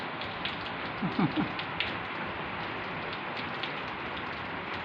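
Steady rain pattering on a surface, a dense even hiss of drops that continues throughout, with a brief faint sound partway in.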